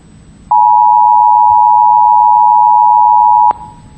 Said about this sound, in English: we introduced the two-tone alert, as everyone's known, 853 and 960 hertz for 20 to 25 seconds